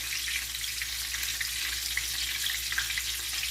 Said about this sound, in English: we're going to go ahead and let these fry for just a few minutes on each side